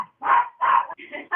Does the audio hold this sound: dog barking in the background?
yes